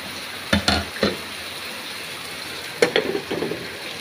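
Okra sizzles steadily in hot oil in a pan, a constant soft frying hiss broken by a few brief stirring scrapes and clatters.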